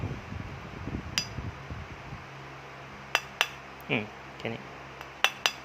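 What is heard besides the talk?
hammering rivet punch while disassembling CZ 75 Compact pistol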